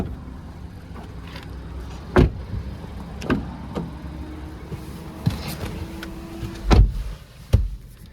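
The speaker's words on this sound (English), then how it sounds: "press this lever here to drop the seats down into a 60-40 split" Rear seats of a 2025 Chevrolet Trax LS being folded down into a 60-40 split: a few separate, close thumps and clunks in a quiet cabin, with a faint mechanical whir between them and no talk.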